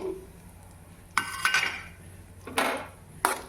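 Pumpkin seeds and charoli nuts going into a pan for roasting make a few sharp rattling, clinking bursts of hard little pieces against metal, near and otherwise quiet.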